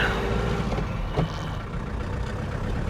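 A rusty 1969 Mercedes 220 diesel rolls slowly in second gear, a low, steady engine drone that stays moderately loud and close throughout.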